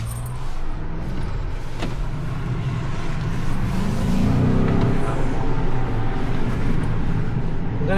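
A 2026 Ford Maverick Tremor pickup in vapor blue, driven hard at a Ford driving event, its engine and road noise rising steadily close by, with a brief voice near the start.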